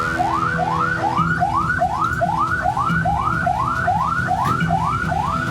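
An ambulance siren wails in a steady, rapid cycle of rising sweeps near Magelang, Central Java, loud and close with no voices over it.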